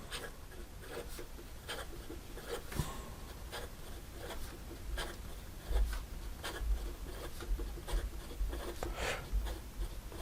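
A Tactile Turn Gist pen writes rapidly on paper, a close, continuous scratchy scribble broken by quick strokes and occasional tapping bumps, with no speech.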